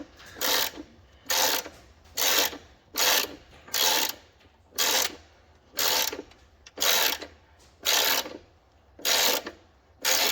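An 8mm Allen key winding in the front strut brace adjuster on a Toyota GT86, making a regular ratcheting click in about a dozen evenly spaced bursts, close and clear with no talk.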